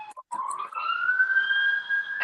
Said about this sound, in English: Who's the siren in the background of?